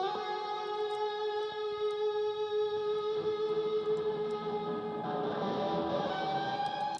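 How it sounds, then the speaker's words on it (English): A muddy, bass-heavy guitar part sits in a music mix before EQ, sustained tones held steady and thick across the whole stretch, moderately loud with no talking over it. "The guitar sounded sick. It was a little bit muddy and I wanted a bit more character out of it."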